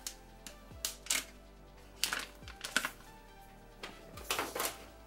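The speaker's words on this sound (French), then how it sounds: "je vais vous mettre le petit bruit du blister que je retire" Plastic blister wrap being peeled off an iPhone X box, several sharp crinkly rips and crackles in bursts, close and fairly quiet, with no talking.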